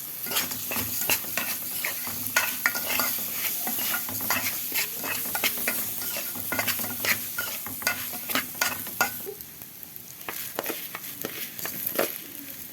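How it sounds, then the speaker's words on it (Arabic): Spices fry in a pan while being stirred, a steady crackling sizzle broken by frequent sharp scraping clicks of the spoon against the metal, close and continuous with no voices. "بتقلبي عشان ما تحرقيش البهارات"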